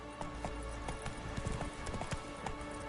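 Hooves of Roach, a horse in the video game The Witcher 3, clopping in a steady, quick rhythm over a constant background hum, moderately close and with no talk.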